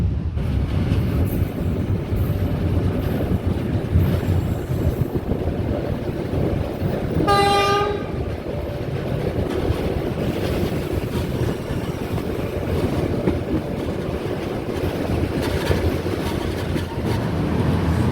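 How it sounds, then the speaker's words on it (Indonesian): Steady low rumble of the Blambangan Express passenger train rolling along the rails in Indonesia, with a brief two-tone horn toot sounding about midway through. "Mari kita nikmatin aja perjalanan naik kereta api Blambangan Express kali ini ya"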